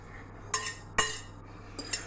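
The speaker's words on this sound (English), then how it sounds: "move the rosti up the side of the pan, so it's more like, push it up there on the sides of the pan as well" A utensil pushes potato rosti up the sides of a frying pan, giving three short metallic scrapes and clinks spaced about half a second apart, fairly close and otherwise quiet.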